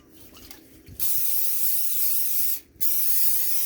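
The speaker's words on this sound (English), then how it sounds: "we're going to spray those bowls with non-stick cooking spray" Non-stick cooking spray hisses into bowls for homemade pizza dough in two bursts, a long close spray followed by a short pause and a second spray, with faint kitchen noise before.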